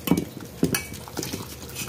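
A spoon stirs flour batter for spicy vadiyalu as water is added, giving a few close, soft clinks and wet scraping strokes against a pot or bowl in a quick, uneven rhythm.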